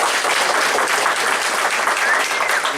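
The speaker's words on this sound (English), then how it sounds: "Round of applause for Swordbound." Dense clapping from a crowd at a beat 'em up gaming convention panel, steady and sustained for the whole stretch with no speech over it.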